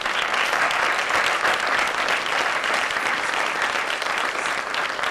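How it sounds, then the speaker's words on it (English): Sustained applause from an audience at a university venture prize pitch night, a dense steady wash of many hands clapping for the full stretch at even loudness, with no voices rising above it. "I figured we ought to give Barrett Hazeltine a round of applause"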